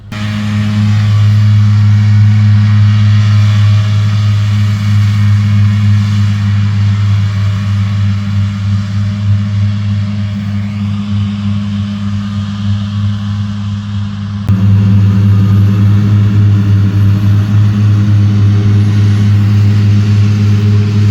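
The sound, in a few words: Claas farm machinery running during hay mowing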